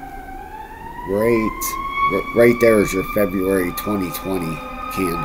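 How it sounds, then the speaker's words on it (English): An ambulance siren wails steadily in the background through the whole stretch, its rising and falling tone running under someone talking continuously in the foreground. "I apologize if you hear the ambulance in the background there."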